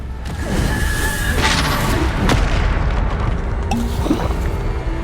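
Bombarda blasting spell going off in Hogwarts Legacy gameplay, a dense barrage of loud booming blasts and crackling impacts with a sharp upward whoosh, sustained and close throughout with no voices.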